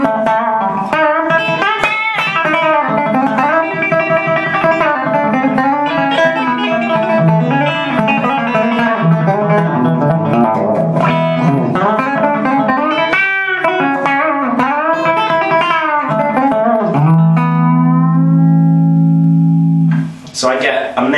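An electric guitar played through a Marshall Class 5 amp, with loud sustained melodic lines and bends, a continuous run of notes ending on a held chord, and no talking over it.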